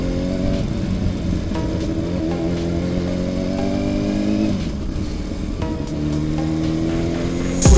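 A motorcycle engine revs high, its loud whining tone climbing and falling in pitch through repeated throttle sweeps, with road and wind noise underneath and a sharp surge at the very end.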